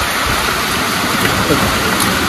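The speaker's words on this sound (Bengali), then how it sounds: "এখন যা বৃষ্টি দিচ্ছে" Heavy rain pours steadily with a dense, loud, unbroken hiss close by, with no pauses throughout.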